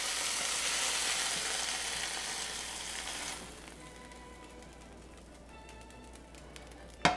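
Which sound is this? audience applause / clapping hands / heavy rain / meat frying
meat frying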